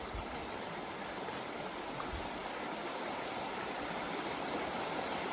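A river stream flowing in a valley, a steady, broadband rush of water that stays constant and moderately distant with no breaks and no voices.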